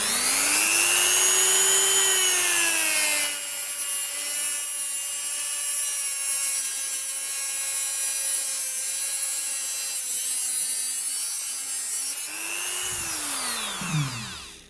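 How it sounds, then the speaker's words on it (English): A Dremel rotary tool with a carbon cutting disc cuts through thick cable wire, its high steady whine holding for about nine seconds before spinning down, loud and alone. "I use is a Dremel with a carbon cutting tool on the end, and I just cut through the wire"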